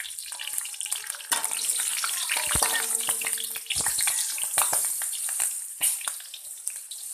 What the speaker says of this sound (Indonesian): Lalu kita goreng cabai hijau atau putihnya.